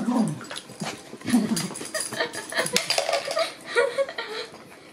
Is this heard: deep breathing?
no